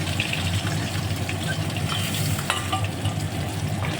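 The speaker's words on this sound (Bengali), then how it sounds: "মাছটা কিন্তু ডিপ করে ভাজবো না, হালকা করে ভাজবো আর কি" Rohu fish lightly shallow-frying in oil, a steady dense sizzle with faint crackles throughout, close and continuous with no voices.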